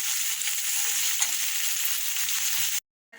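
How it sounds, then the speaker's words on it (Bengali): Onion and potatoes sizzle steadily in a frying pan as they are stirred, a bright continuous crackle that cuts off abruptly near the end. "পেঁয়াজটা ভাজা ভাজা হয়ে গেছে এবার এই আলুগুলো দিয়ে দেবো"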